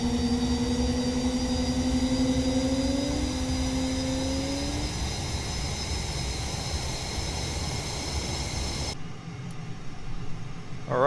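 Jet engine of an F/A-18F Super Hornet in a flight simulator winding through a steady whine, with rising then fading tones over a constant roar before an abrupt cut to quieter rumble.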